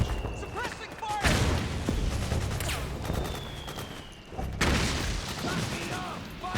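Metal Gear Solid IV firefight in South America, with rapid gunfire bursts and sharp impacts in two loud waves amid clatter and shouted voices.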